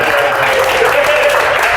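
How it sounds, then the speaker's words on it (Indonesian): An audience applauds a guest, Willy Winarko, at a warung talk show, a brief continuous burst of clapping with steady loudness and a faint tonal hum beneath. "Tepuk tangan untuk Mas Willy Winarko."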